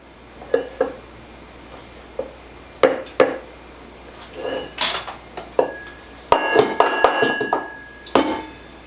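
A utensil scrapes and knocks against a mixing bowl while stirring strawberry sugar cookie dough, giving irregular clinks, taps and scraping strokes up close with no speech.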